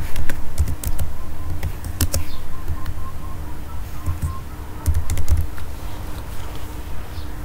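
Typing on a computer keyboard, close up, with quick irregular bursts of key clicks and a few louder clacks, continuing for several seconds with brief pauses.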